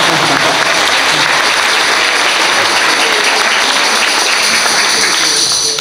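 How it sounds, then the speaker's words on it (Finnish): Loud, sustained applause from a gathering of over a hundred people at a Global Day of Prayer event, dense continuous clapping that fills the whole stretch at close range. "antakaa raikoit aplodit"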